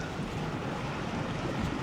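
Water splashing and churning on a hot day in Thailand, a steady, loud, broadband wash with no pauses, carrying no speech.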